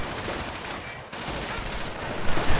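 Machine gun and small-arms fire in a tournament match of a World War II strategy game, a dense continuous crackle of bursts with a brief dip midway, loud and close.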